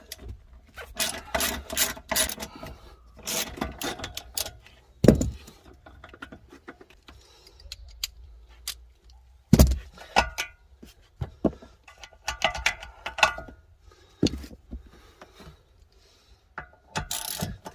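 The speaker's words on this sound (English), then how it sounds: "now we're gonna remove those 4 screws" Rear seat bench screws being removed from an Audi Q with a ratchet, heard as bursts of quick clicking pawl ratchets and metallic clunks, close and fairly loud, with short pauses between runs and no talking.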